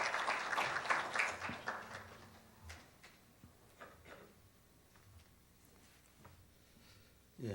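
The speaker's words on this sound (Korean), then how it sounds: "여러분 큰 박수로 맞이해 주시기 바랍니다" An audience at an awards ceremony applauds as the host is welcomed to the stage, a brief burst of dense clapping that quickly thins into a few scattered claps, then footsteps and small knocks in a quiet hall.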